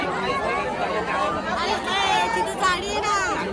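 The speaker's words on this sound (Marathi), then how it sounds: "हे बघा किती गर्दी आहे." Loud, close crowd chatter at Harne fish market in Dapoli, many overlapping voices and calls blending into a continuous busy babble.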